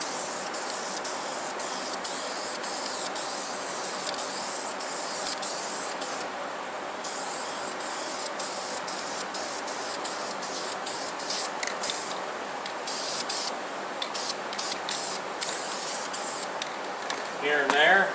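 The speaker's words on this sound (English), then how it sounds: "So let's make this thing glow in the dark. This, you know, spritz on the light coat." Glow-in-the-dark paint going on in a light coat from a spray can, a close, steady hiss that keeps on with brief breaks, while someone talks.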